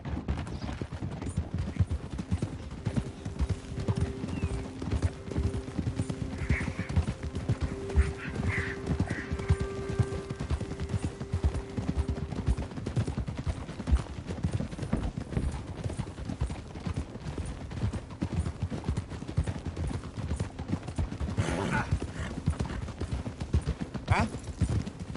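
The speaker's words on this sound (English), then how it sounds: "Get a hold of that horse" Horse hooves clip-clopping at a steady rhythm in the Western open-world game Red Dead Redemption 2. The hoofbeats run continuously throughout under faint ambient game sound, and a brief whinny-like tone sounds midway.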